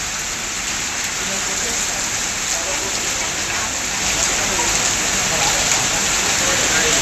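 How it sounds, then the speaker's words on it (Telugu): Hailstorm downpour over LB Nagar, Vanasthalipuram and Hayathnagar in Hyderabad, heard as a steady, dense hiss of heavy rain pounding surfaces, constant and loud across the whole stretch with no clear talk. "ఎల్బీ నగర్, వనస్థలీపురం, హయత్ నగర్లలో వడగళ్ల వాన కురిసింది"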